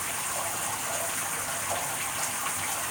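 Running water gushes steadily and fairly loudly throughout, a continuous broadband rushing with no pauses or voices.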